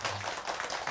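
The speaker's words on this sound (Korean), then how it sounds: "큰 박수 한번 부탁드리겠습니다" An audience claps together at a Buddha's Birthday dharma service in a Korean Buddhist temple, a brief dense burst of close applause.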